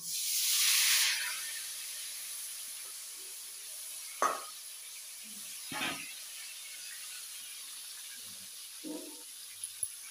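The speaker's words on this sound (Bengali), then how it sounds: "আর যে বাকি মাছগুলো আছে এগুলো ভেজে নেব" Fish frying in oil gives a burst of hissing spray, then settles to a faint, quiet sizzle broken by a few sharp clicks and spits, nearby and without talk.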